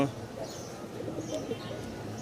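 A caged pigeon coos softly and intermittently at a distance, mixed with low background talk.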